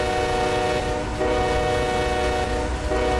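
Short rock freight train running in Run 8 Train Simulator, loud steady engine drone with a sustained horn-like tone throughout, close and unbroken.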